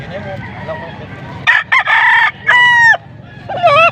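A young gamecock, a stag, crows loudly and close at a gamefowl sale in Pampanga, with several bursts of crowing and clucks over a murmur of background chatter.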